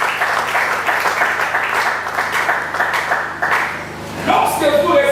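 A church congregation at a Sunday service claps steadily together in sustained applause, loud and close, with voices calling out over it and a brief musical tone near the end.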